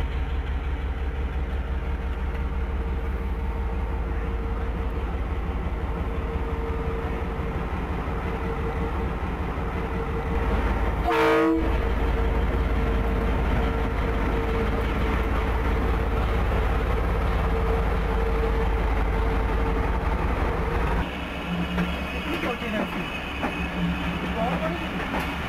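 A CRRC Tangshan diesel locomotive in Pakistan pulling away on its journey, a loud, steady low engine drone and rumble throughout, with a brief metallic squeal mid-way and a shift in engine tone near the end.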